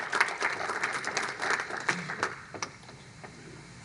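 An audience applauds at an Urdu literary tribute event, a moderate burst of many hands clapping that thins and fades over a few seconds.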